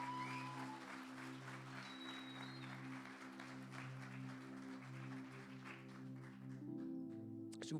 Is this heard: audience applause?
yes